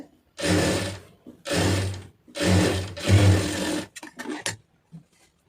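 A sewing machine stitches a star-shaped neckline on a plain cotton blouse, running in four steady loud bursts of about a second each, then a few shorter stop-start runs before falling quiet.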